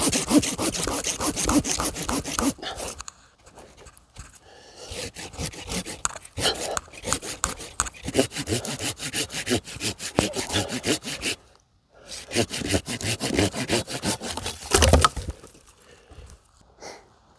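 A hand saw cuts through a thick branch on a tree being shaped, close and loud rhythmic back-and-forth rasping strokes in long runs, briefly paused twice before sawing resumes.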